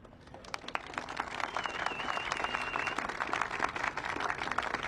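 An audience applauds politicians at a Chicago gathering, sustained clapping from a sizable crowd, fairly loud and steady throughout with no talk over it.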